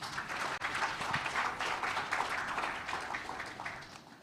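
A music business conference audience in Lagos bursts into steady, dense applause that fills the room, holding for several seconds before slowly fading.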